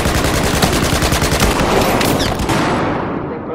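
Rapid automatic gunfire from a player's favourite weapon in Battlefield 4, a loud, dense burst of shots rattling close up for about three seconds before trailing off.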